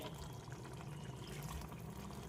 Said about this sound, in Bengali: একটু গরম জল দেবো, এটাকে ধুয়ে